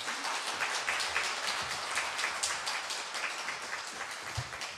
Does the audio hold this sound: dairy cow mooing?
no